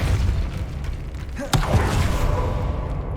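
Spell effect from the Hogwarts Legacy video game, the Depulso repelling charm: a single sudden boom-like burst midway, standing out over a steady, dense game soundscape.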